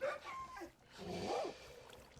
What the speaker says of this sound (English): Let me unsit all my dogs so they don't disappear forever